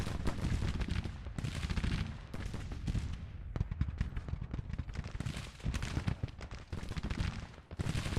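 Cannon fire in the Civil War strategy game Grand Tactician, with a 6-pound Whitworth battery on bombardment; dense, continuous rumbling volleys of booms and crackling gunfire roll on loud throughout, with no voices.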